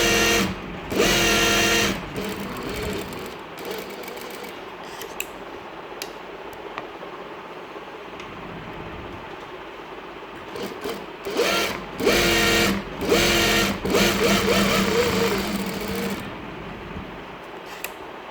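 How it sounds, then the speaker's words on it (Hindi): Sewing machine boot-stitching a fabric strip along both sides for sleeve and daman trim, loud rapid mechanical bursts at the start and again near the end, with a quieter stretch between. "ये हमने दोनों तरफ से स्टिच कर लेना"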